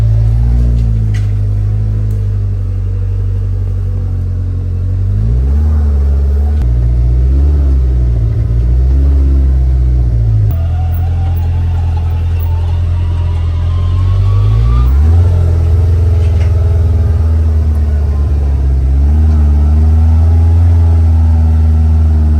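A truck pulling a trailer drives away, its engine a loud, steady low rumble with several gear-change dips and rises in pitch as it accelerates.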